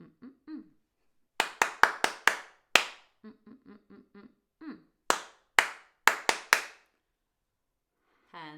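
Sharp individual hand claps in a clap-back singing game, delivered in short rhythmic bursts of four or five with pauses between, close and crisp, with brief soft vocal sounds in the gaps.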